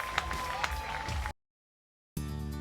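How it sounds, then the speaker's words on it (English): Fans applauding and cheering at a Switchbacks soccer match after a 2-0 win, a steady wash of crowd clapping that cuts out into silence before a broadcast sound resumes. "Steve Tritchew and Owolde giving the fans a great round of applause"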